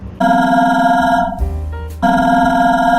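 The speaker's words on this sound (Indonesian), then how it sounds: "suara telepon yang bergetar itu" A loud electronic phone ringtone plays a bright melodic pattern close up, with a brief change in tone midway before the melody resumes.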